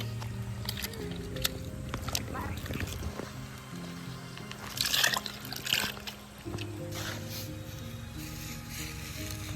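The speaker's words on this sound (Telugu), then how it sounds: "ఇక్కడ ఈ పేడ నీరుని కలుపుతున్నారు చూసారా చేతితో" Cow dung and water being mixed by hand in an outdoor farm setting, giving wet sloshing and squishing trickles that rise into louder splashy bursts midway, with background voices and a steady hum.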